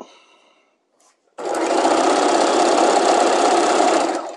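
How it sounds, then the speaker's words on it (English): A sewing machine runs at a steady, fast stitching rhythm over a dart seam while constructing a dress bodice, starting abruptly after a short quiet pause and continuing loud and close to the end. "Make sure that seam allowance of that dart stays facing down as you stitch over it."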